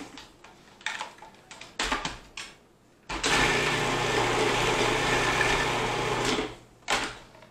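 A blender whirs loudly and steadily for several seconds, mixing keto pickle popper filling of cheese and bacon, with quieter bowl and handling sounds before the motor starts and a short burst after it stops.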